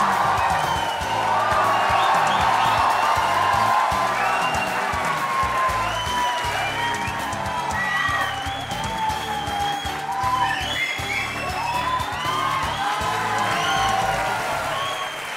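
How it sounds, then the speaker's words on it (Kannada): A studio audience at a televised courtroom-style talk show applauding and cheering for a cricketer's entrance, dense sustained clapping with whoops and shouts throughout. "ನೀವೆಲ್ಲ ಚಪ್ಪಾಳೆ ತಟ್ಟೋದನ್ನ ಹೀಗೆ ಮುಂದುವರಿಸ್ತಾ ಇರಿ"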